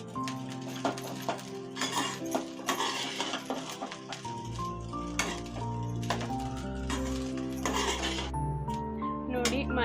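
A spatula scrapes and clinks against a pan as egg rice with freshly chopped coriander is mixed, with irregular metallic taps and a faint sizzle under a speaking voice.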